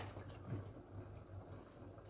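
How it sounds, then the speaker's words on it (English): Water poured from a glass into a pot of cooking mutton biryani, a faint soft steady trickle and splash heard alone. "So I'm going to add about 1 to 2 glasses of water."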